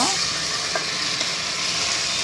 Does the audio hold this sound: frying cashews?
yes